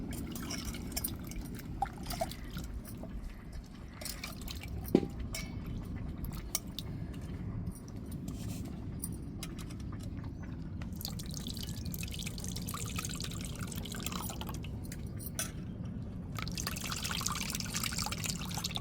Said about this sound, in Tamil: இப்போ புளியை கரைச்சி வச்சுக்கிட்டோம்